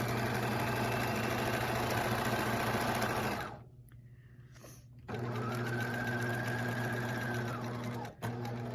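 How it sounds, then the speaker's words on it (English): A sewing machine runs steadily, stitching a straight seam along evened fabric edges, pausing for about two seconds midway before resuming its continuous mechanical whir. "and then sew all the way down"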